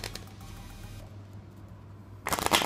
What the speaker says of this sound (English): And let's try a shuffle.